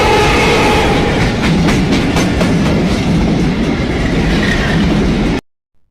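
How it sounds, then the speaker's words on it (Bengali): A train passes very close and loud along a railway line, with a roaring rumble and rapid clickety-clack of wheels on the rails that fills the whole clip and then cuts off abruptly into silence. "এই তো ট্রেন চলে আসছে"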